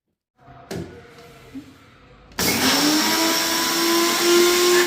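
Mixer grinder jar grinding sesame seeds: a few clunks as the jar is set in place, then the motor kicks in with a loud, steady whirring roar that rises slightly in pitch as it runs.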